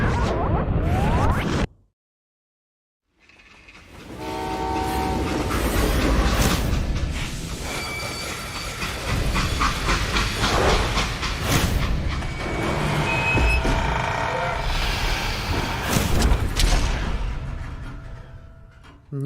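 Steam train in the video game Call of Juarez: Gunslinger, with rumbling and clanking wagon noise, whooshes and tonal screeches after a brief silent gap near the start.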